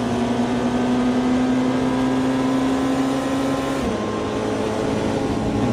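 A McLaren race car in the Automobilista 2 racing game, its engine droning loud and steady with a sustained tonal whine that drops in pitch partway through.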